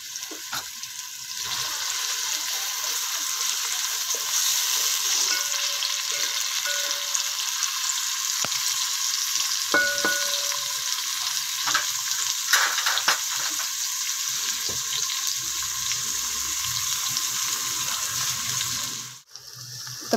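Onions frying in a pan for aloo matar sabzi, a steady close sizzle that runs unbroken for about twenty seconds, with a few faint clinks of stirring and no talk.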